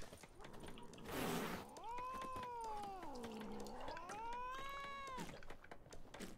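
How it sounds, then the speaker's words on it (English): A cat in The Witcher 3 game gives a short breathy hiss, then a long, wavering yowl that rises and falls over several seconds, faint and alone. "The cat is hissing at me."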